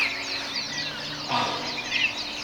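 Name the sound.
ducks quacking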